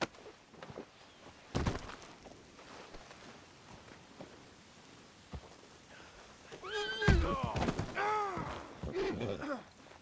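A horse in Red Dead Redemption 2 gives a loud, drawn-out whinny with a rising and falling tremor near the end, after a few scattered thuds and soft hoof sounds.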